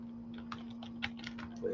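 Keystrokes on a computer keyboard tapping out a short, irregular burst of typing under a steady electrical hum, close and fairly quiet, with no talking.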